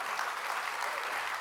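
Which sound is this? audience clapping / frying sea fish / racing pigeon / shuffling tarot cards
audience clapping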